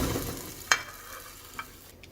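French toast sizzles softly in a pan just after being flipped, with a quiet crackle, one sharp clack near the start and a fainter knock later.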